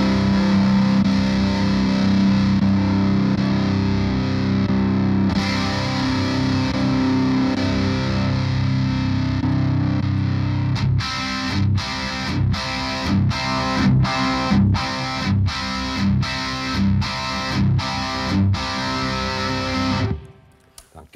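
Heavily distorted electric guitar chords through a Diezel D-Moll amplifier ring out and sustain, then switch to a run of short, evenly spaced chopped chord stabs before stopping.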